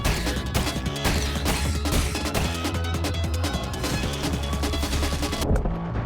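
In the video game Crypt Custodian, a boss's hand fires shots in a dense barrage of crashing impacts and blasts layered over busy game music, loud and continuous, cutting off abruptly near the end.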